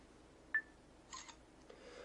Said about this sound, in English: You can tap the screen, will autofocus, and then it will proceed to take the picture.